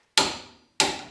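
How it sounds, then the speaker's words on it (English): A Short Action Customs modular barrel vise clicks twice as it is tightened down, each a sharp metallic snap with a short ringing decay, close and alone in otherwise silent surroundings. "tighten her down until you hear her click"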